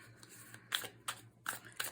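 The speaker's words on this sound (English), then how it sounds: "I'm shuffling in silence because sometimes I do better that way." A brand-new deck of tarot-style cards being shuffled in a quiet room, four or five crisp riffling bursts separated by short pauses, close and soft.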